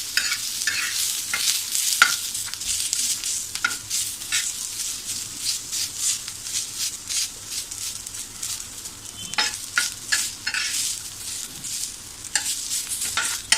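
Onions sautéing in a pan until pink, a bright continuous sizzle with frequent scraping stirs throughout, close and steady, nobody speaking.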